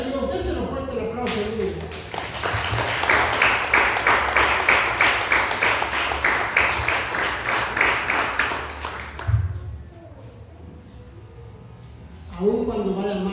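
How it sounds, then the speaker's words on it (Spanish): A church congregation breaks into loud, sustained applause for about seven seconds, dense and even. Speech comes before and after it. "Déselo fuerte el aplauso."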